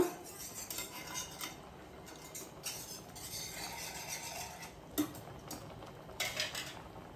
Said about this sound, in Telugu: చిల్లీ ఫ్లేక్స్ కూడా వేసుకొని ఇది కూడా బాగా మిక్స్ అయిపోవాలి